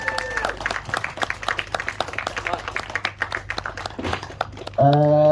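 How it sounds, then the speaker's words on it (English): Audience clapping at the Bushcraft Show, a scattered crowd applauding at moderate level for a few seconds, ending abruptly as a louder tone cuts in. "a big Bushcraft Show round of applause, Sam Mangan!"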